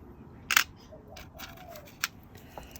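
Sharp snaps of nippers cutting vitreous glass mosaic tile, one loud crisp crack followed by a smaller one and faint clinks, close up in a quiet room.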